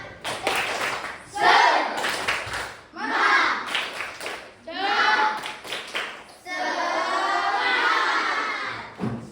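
A primary school class claps in quick rhythmic bursts, pausing between sets, while voices chant along, building to a longer stretch of clapping at the end.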